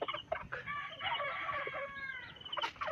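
A gray fighting rooster, a four-time winner, crows nearby, its drawn-out cock-a-doodle-doo rising and holding over a quiet farmyard background, with a few short clucks before and after.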